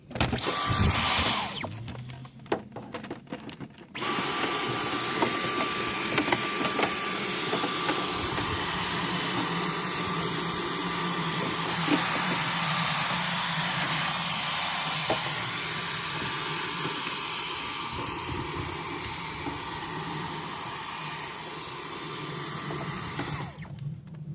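A vacuum runs steadily at close range, sucking debris out of a car's air cleaner box. It makes a loud, continuous whining roar for about twenty seconds, with a brief start-up interruption near the beginning.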